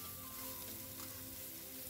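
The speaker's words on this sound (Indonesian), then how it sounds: "Sekarang kita tumis juga bakso ikannya." Fish balls stir-fry in a pan with spiced paste, making a faint, even sizzle that holds steady for a moment with no speech.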